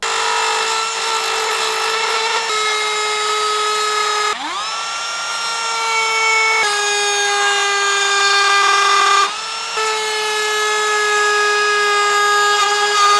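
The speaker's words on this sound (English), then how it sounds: "I'm going to actually grind with the grinding wheel a slit in the PVC pipe about 1 inch deep" A grinding wheel cuts a slit about an inch deep into PVC pipe with a loud, steady, high-pitched motor whine. The pitch dips briefly twice as the wheel bites and recovers, and no one speaks.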